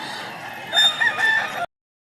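A tall, large White Kelso rooster at a poultry sale in Lipa, Batangas crows once, a loud close cock-a-doodle-doo that lasts about a second and cuts off abruptly.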